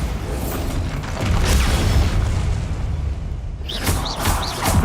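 A Bombarda explosive spell blasts during Hogwarts Legacy combat, producing a loud, sustained low boom and rumbling crash lasting several seconds, with whooshing magical effects toward the end.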